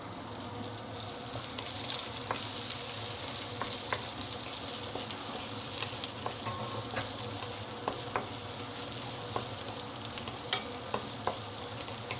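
Roast pork is stir-fried with garlic and chili for Thai basil roast pork, making a steady, moderate sizzle broken by small, repeated spatula clicks and scrapes against the pan, with no voices.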